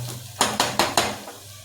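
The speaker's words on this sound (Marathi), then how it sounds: "मसाला तेलामध्ये चांगलं भाजलं गेलं पाहिजे" A spoon stirring red masala frying in oil in a cooking pot, giving four quick, evenly spaced metallic clanks against the pan, close and fairly loud, with only a faint sizzle underneath.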